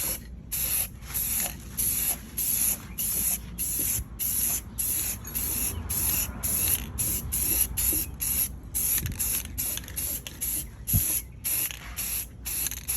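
Aerosol spray paint laying a light first coat onto a car engine bay at home: rapid, repeated short hissing bursts with quick gaps, close and steady, about twenty pulses in a row.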